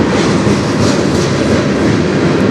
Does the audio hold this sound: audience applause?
no